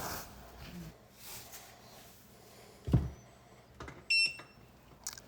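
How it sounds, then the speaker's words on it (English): A laser level's out-of-level alarm gives a few short, high electronic beeps near the end, over a quiet room with faint handling noises. "Turn off that out of level alarm"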